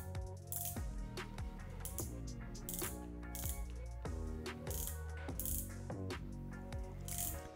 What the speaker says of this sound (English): let's have a closer look at this bezel action